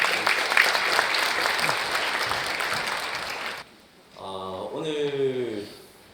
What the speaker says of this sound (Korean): 여러분 김태훈 대표님을 큰 박수로 맞아주시기 바랍니다